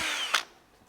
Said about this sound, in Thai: ใช้สว่าน